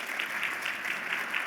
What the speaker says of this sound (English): Let's give Andrei a clap.